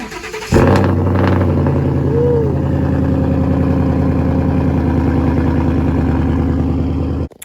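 A 2021 Ford GT500 engine cold-starts after a brief pause: a short starter crank, then a loud, close, rumbling idle that holds steady for several seconds before cutting off.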